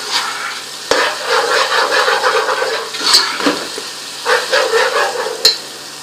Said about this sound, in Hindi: ऑयल में इसको लहसुन अदरक को फ्राई कर लें प्याज के साथ